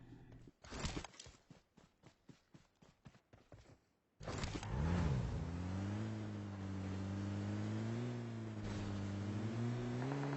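A vehicle drives past in PUBG Mobile: a string of rapid clattering thumps for a few seconds, then a sudden steady engine drone that rises in pitch and holds loud and continuous to the end.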